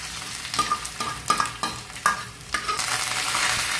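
Coriander seeds fry in hot oil for a tempering, a close sizzle with a series of sharp stirring scrapes that settle into continuous spitting.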